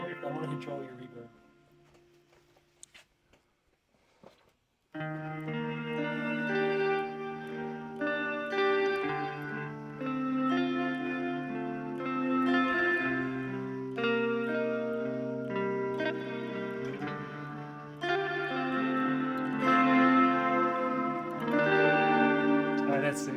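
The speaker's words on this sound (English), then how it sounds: "I want to control your reverb." Electric guitar played through an Echo Plateau reverb pedal, sustained ambient chords washing and trailing after a quiet start with brief voices, the chords rising and swelling for the rest of the stretch.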